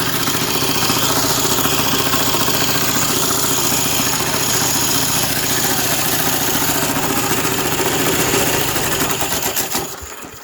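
A Lomart Cheetah diesel mini bike engine idles roughly and loudly up close, a steady clattering knock that runs for about ten seconds before dying away at the end.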